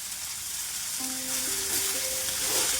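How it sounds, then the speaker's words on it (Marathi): Fenugreek leaves sauté gently in ghee in a pan for parathas, giving a steady, close sizzle that runs throughout, with a faint thin whistling tone entering partway. "हलकीशी परतून घ्यायची आहे आपल्याला मेथी फक्त अशी नरम करायची आहे"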